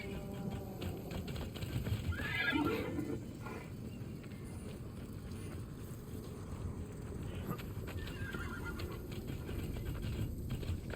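Chroma horses in the video game Immortals Fenyx Rising, clip-clopping hooves and a brief whinny under steady wind and water-like ambience, moderately distant and fairly quiet, with no talk.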